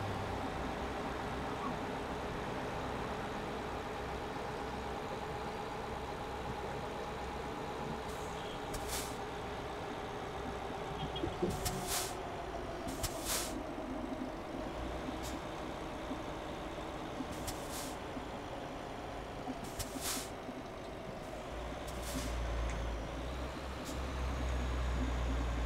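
Heavy truck engine droning steadily in Euro Truck Simulator 2, driven at full throttle toward Italy, with repeated short bursts and clicks over the constant low rumble and a deeper surge near the end.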